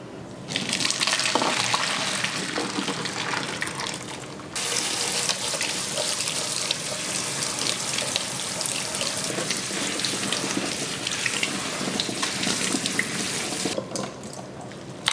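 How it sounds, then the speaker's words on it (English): A kitchen tap runs steadily as cooked Korean jjolmyeon noodles are rinsed to wash off starch, giving a continuous close splashing hiss that briefly drops off near the start and again near the end. "I'm gonna try my best to rinse away all the starch stuck on these noodles"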